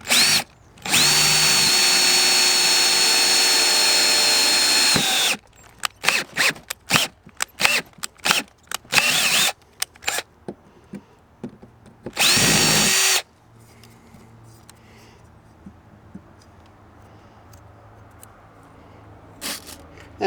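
A power drill whines loudly in a long burst, drilling a hole for a rivet nut, then stops and starts in short grinding spurts before falling quiet.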